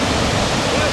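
Floodwater rushes fast through a swollen drain during heavy flooding in India, a loud, continuous roaring torrent that fills the whole clip with dense, steady broadband noise.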